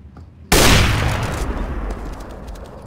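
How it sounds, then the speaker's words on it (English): A single loud sniper shot in a video game, fired down a tunnel, cracking sharply and then rolling off into a long reverberant rumble that fades over the next two seconds. "he's sniping down the tunnel there"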